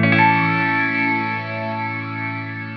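A single sustained ambient reverb synth tone swells with a distorted, buzzy edge from a distortion effect and lush reverb, holding steady as it slowly fades.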